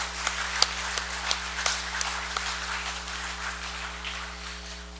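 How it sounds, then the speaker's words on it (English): Applause for a newly chosen official by acclamation fills the chamber of the 24th Congress of the Federated States of Micronesia, a moderately faint, steady patter of many hands with a few sharper claps over a low hum, lasting throughout. "let us please give him a round of applause"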